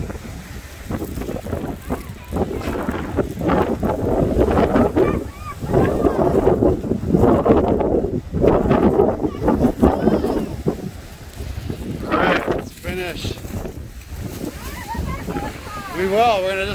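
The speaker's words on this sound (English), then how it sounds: "It is windy." Strong wind by Lake Superior buffets the microphone in heavy, continuous gusts outdoors near a marine museum, with voices talking over the roar.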